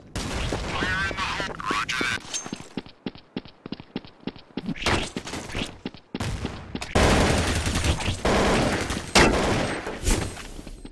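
Counter-Strike: Source gunfire, fast rattling bursts of rifle shots in tight rhythmic volleys, broken by short pauses and then heavier, denser firing, loud and close.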